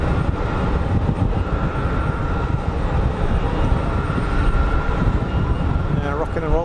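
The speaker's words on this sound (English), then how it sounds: "Let's see how this PC-12 handles the crosswind" A Pilatus PC-12 landing in a crosswind gives a steady, broad engine and airflow roar that holds at an even loudness throughout, with a faint tonal whine near the end.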